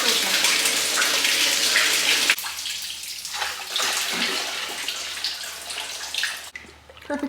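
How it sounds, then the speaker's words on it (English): Water pours from a container into a 5-gallon pail in a steady, loud gushing stream for about two seconds, then continues as a softer splashing trickle with faint voices at a distance. "So I just pour a little bit into the extra 5-gallon pail and then I pour it from there into the bottles."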